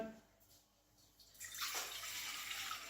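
About one and a half litres of water is poured into a cooking pot on a stove, starting after a quiet moment and continuing as a steady, splashing rush to the end.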